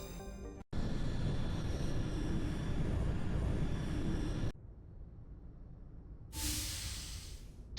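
A spaceship landing in the Mass Effect video game, a loud steady engine roar and rumble that cuts out abruptly into a quieter hum, followed by a bright hissing whoosh near the end.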